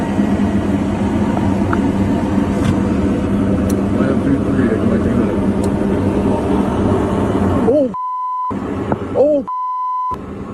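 Aircraft engine roar from a Delta airliner landing, a steady loud rumble that drops away and is broken by two long electronic tones with people talking between them.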